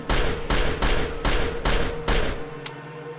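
Rapid gunfire in the VR video game Genocide Dolphins, six loud evenly spaced bursts about half a second apart, then a faint click as it runs dry.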